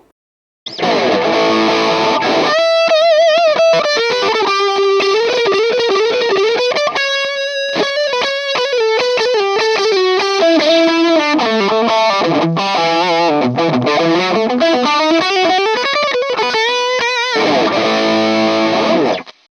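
Heavily distorted electric guitar through an M-VAVE Cube Baby multi-effects unit set to a Marshall 1960 amp model, playing loud sustained melodic lead lines and chords, alone and up close.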